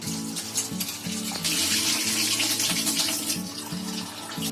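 Running water splashes and swirls in a bowl, with soft clinks and sloshing as flattened rice (poha) is washed by hand.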